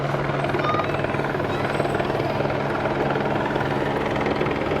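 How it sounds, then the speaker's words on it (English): A California Highway Patrol helicopter passes over the 2019 Fourth of July parade in Novato, its rotor a steady, loud, even throb that fills the air without a break and with no voices heard. "It's a helicopter."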